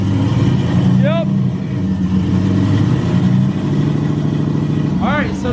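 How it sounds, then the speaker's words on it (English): A race car engine runs close by with a loud, steady, throbbing drone, while people talk over it. "Alright, so the car is running."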